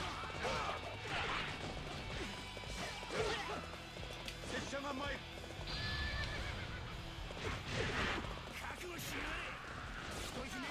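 Red Hare, a horse in the video game Warriors Orochi 3, neighs loudly several times amid hoofbeat clip-clops and clashing battle impacts, with someone talking over the game sounds.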